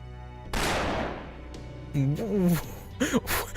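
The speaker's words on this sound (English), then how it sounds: "We heard a gunshot." A single sharp gunshot cracks out in the Fate/Grand Order video game and rings off into a decaying tail, followed by characters speaking briefly.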